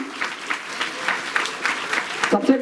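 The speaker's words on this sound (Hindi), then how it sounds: "तो जोरदार एक बार फिर से तालियां।" Rhythmic clapping from a school audience at a science outreach programme, a steady pulsing beat of hands with some talk mixed in.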